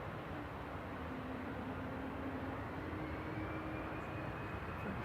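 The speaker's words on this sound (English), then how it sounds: "EasyJet 7270 to Palma de Mallorca, OE LQE is lined up from Alpha. It's an A319 on the roll." EasyJet Airbus A319 on its takeoff roll at Manchester Airport, heard from a distance as a faint, steady jet roar with a thin whine, constant throughout with no voices.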